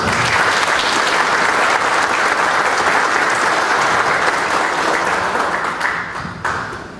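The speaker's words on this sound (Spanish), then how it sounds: "queremos ahora sí dando un fuerte aplauso a todos y todas" An audience at a rural territorial development community forum gives strong, continuous applause, a thick wash of clapping that thins and tapers off in the final seconds.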